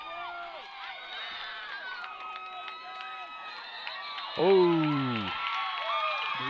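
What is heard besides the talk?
football crowd cheering for the Eagles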